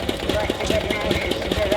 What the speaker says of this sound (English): The engine is ticking over there now.